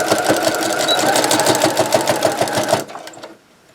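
A sewing machine stitches around oven mitt fabric pieces placed right sides together, giving a close, steady rhythmic whir for nearly three seconds before it stops abruptly. No one speaks.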